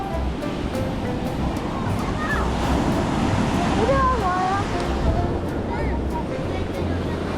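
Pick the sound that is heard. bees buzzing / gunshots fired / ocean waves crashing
ocean waves crashing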